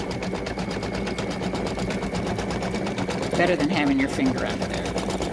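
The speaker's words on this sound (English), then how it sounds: "So here it is, stitching the body." An embroidery sewing machine stitches the body of a freestanding-lace turkey pendant on water-soluble stabilizer, a steady rapid mechanical chatter with a person talking briefly over it near the end.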